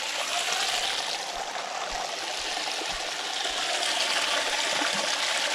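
Water runs steadily through a homemade sludge tumbler rig, a continuous close, broadband rushing and trickling flow with no talk over it.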